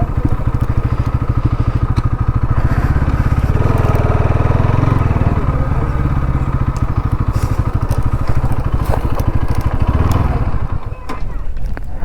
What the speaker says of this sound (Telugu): మనమైతే డైరెక్ట్ వచ్చేస్తున్నాం బైక్ తీసుకొని.